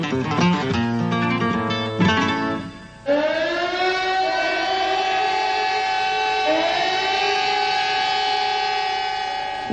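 City sirens in Barcelona wail in long sustained tones as a population alert, one sound cutting off abruptly before another steady siren rises and holds, loud and continuous.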